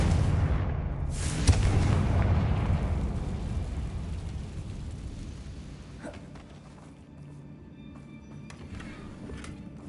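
Confringo fire-blast spell exploding in Hogwarts Legacy on PS5: a loud booming detonation near the start, followed by a long rumbling decay with scattered crackles and a few sharp pops later.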